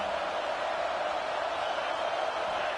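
Steady, loud wash of stadium crowd noise during an American football game, a continuous roar with no breaks across the whole stretch.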